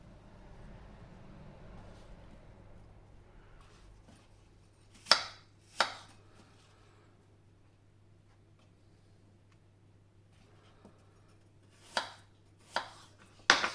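A knife cutting peeled apples into quarters on a board, a handful of sharp separate chops against a quiet kitchen background with long pauses between cuts.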